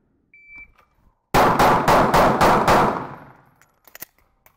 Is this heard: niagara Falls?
no